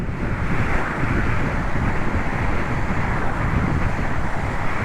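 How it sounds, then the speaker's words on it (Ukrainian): Waves wash continuously on open water, a dense roar mixed with heavy wind buffeting against the microphone, loud and unbroken throughout. "оці хвилі, як я їх ненавиджу"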